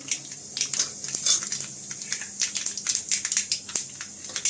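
Cumin seeds dropped into a hot pan for potato poha set off dense, fast crackling and light metallic clinks that repeat steadily, with no voices.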